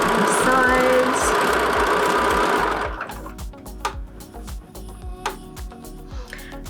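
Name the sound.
sewing machine stitching a tote bag side seam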